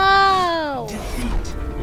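A pet cat gives one long, drawn-out meow close by that slides downward in pitch, followed by faint rustling and thumps.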